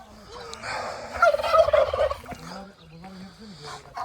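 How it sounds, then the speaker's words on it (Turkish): Peacocks give a rapid gobbling call that rises loudly over outdoor background, with pheasants calling intermittently around it, at a hunting preserve in Banaz, Uşak, Turkey. "Bunlar tavus kuşu biliyorsunuz zaten şu ileridekiler sülünler."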